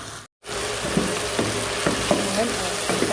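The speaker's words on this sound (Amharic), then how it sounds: "አሁን ለተወሰነ ሰዓት አብረን እንጠብሰዋለን።" Potatoes and other ingredients for cream of potato soup fry in a pot, giving a continuous sizzle with periodic clinks and scrapes of a stirring utensil after a short gap at the start; no talk.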